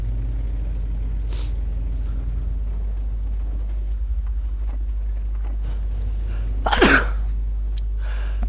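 A person sneezes once, loudly and close to the microphone, over a constant low engine rumble during a World of Tanks game.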